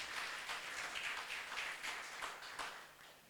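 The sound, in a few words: audience applause welcoming a guest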